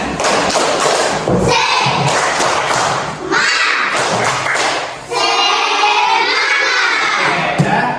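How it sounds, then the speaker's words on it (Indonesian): A group of children performing a 'tepuk semangat' clapping cheer, loud rhythmic bursts of claps and thumps mixed with shouted voices, close by, broken by short gaps between the bursts. "Coba sekali lagi tepuk semangat."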